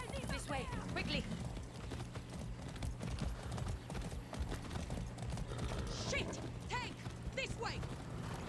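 Hooves clip-clop in quick rhythm as a horse runs in the video game Far Cry 6, with an occasional whinny and a scattered clatter of background noise.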